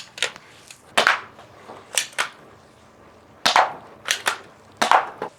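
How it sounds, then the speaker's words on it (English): A JY Glock 18 spring-powered gel blaster pistol fires a series of sharp, dry snapping shots, some in quick pairs, spaced irregularly with quiet gaps between them, close and fairly loud. "We're gonna give each one of these gel blasters a shoot, just so you can kind of see the power, how they shoot"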